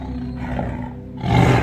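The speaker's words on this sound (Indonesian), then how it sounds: "Suara auman harimau itu mulai terdengar secara perlahan." A big cat roars loudly and close by, a deep rumbling growl that swells stronger toward the end.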